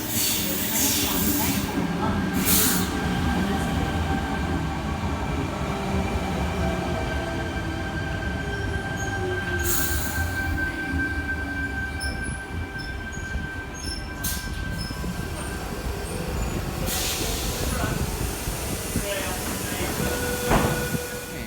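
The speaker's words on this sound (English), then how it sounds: "Tangara, T33, arriving into platform 1, Hurstville service." A Sydney Tangara electric train, set T33, pulls into a platform at Mortdale station, a steady low rumble and rolling hiss with brief wheel squeals and a metallic screech, close, while a voice speaks over it.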